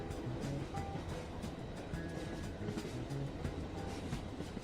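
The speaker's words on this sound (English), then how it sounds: "Phil and Jan sit at a table in a cross-country train." Steady rumble of a cross-country passenger train running on its rails, heard from inside a carriage, a continuous low roar with faint rhythmic clatter throughout and no talking.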